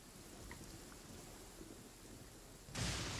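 Steady rain with a low rumble of thunder in the video game Genshin Impact, a soft continuous hiss that swells louder near the end, with no talk.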